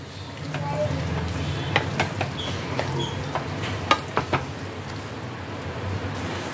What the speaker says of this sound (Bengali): এবার পনিরটাকে মশলার সাথে ভালো করে মিশিয়ে নিতে হবে।